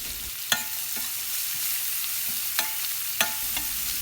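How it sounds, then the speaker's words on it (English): Chopped onion and slit green chilies fry in a pan with a steady, close hiss, broken by a few sharp scrapes of a spoon stirring against the metal. "We have to fry the onion until it turns light brown."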